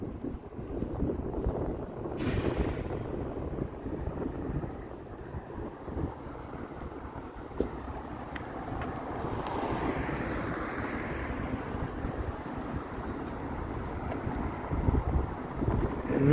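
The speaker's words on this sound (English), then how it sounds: "See how windy it is there with my mop blowing around." Strong wind buffets a microphone outdoors on a Toronto city street, a continuous rumbling roar with gusts swelling and easing, loud and close throughout with no one talking.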